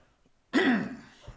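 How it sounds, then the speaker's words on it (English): A single throat clearing, close and fairly loud, a brief rasping burst that fades out with no talking around it. "Let me clear my throat."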